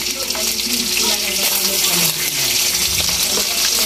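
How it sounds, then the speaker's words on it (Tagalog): Tulingan fish frying in a pan, a loud, dense, continuous sizzle heard up close, with a faint hum and a little background voice mixed in. "Magpiprito lang ako ng isda"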